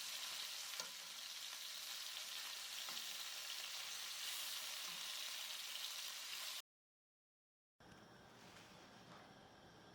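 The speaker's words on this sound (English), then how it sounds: "Now I'm just flipping over the beef." Beef browning in a pan for Egyptian fattah, a steady loud sizzle and crackle of frying meat that cuts out briefly, then resumes just as strongly.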